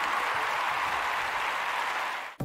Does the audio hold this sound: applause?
yes